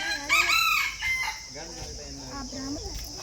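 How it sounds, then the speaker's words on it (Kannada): A chicken rooster crows at a small zoo in Gadag, Karnataka, a single drawn-out call over soft background noise, followed by quieter clucking and murmured sounds. "ಆ ಕಡೆ ಮೇಗಡೆ ಕೋಳಿ ಐತೆ ನೋಡಿ"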